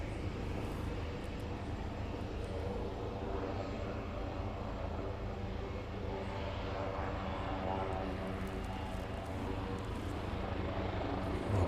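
A jet airliner taxiing at East Midlands Airport in the evening, a steady, broad engine roar and whine droning without letup, moderately distant, with faint voices in the background.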